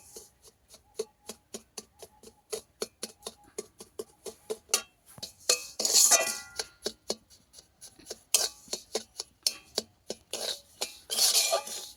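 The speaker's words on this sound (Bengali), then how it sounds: "সুজিটাকে ভেজে নিতে হবে হালকা হালকা আছে। ঘি" Semolina frying in ghee in a pan while a spatula stirs it, making a rapid, regular series of sharp metallic scrapes and clinks with a few longer scraping sweeps. The sounds are close and there is no talk.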